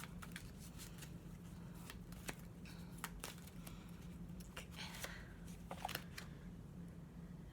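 Affirmation wisdom cards are handled and shuffled by hand, a run of soft, quick papery flicks and taps, close and quiet, with no speech.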